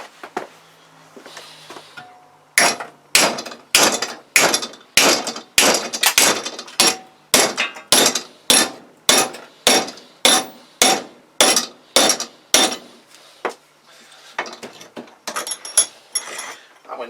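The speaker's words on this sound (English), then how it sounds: "biggest hammer I've got" Heavy sledgehammer blows on a part held in a vise ring out one after another, about twenty evenly spaced metallic strikes, loud and close, then a few lighter knocks.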